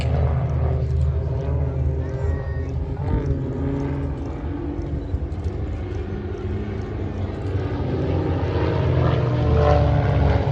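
A propeller-driven warbird at the Midlands Air Festival pulls up for its final display manoeuvre, its engine a loud, sustained droning roar that swells slightly toward the end, with faint talk beneath it.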